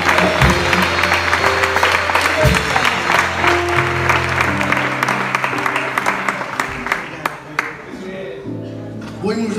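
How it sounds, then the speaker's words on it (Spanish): Church congregation applauding during a sermon, lively clapping mixed with sustained instrumental music tones underneath, gradually thinning toward the end. "Dale un aplauso al Señor."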